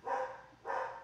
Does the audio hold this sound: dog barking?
yes